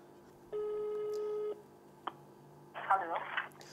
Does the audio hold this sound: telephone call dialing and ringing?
yes